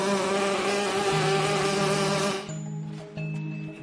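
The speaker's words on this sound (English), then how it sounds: "Buzzing bee." A buzzing bee sound effect played as a quiz-show clue hums loudly and steadily, then drops abruptly to a softer buzz near the end.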